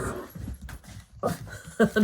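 A puppy whimpers in short, soft bursts close by while it is held in one arm indoors, with brief louder yelps toward the end and some background movement.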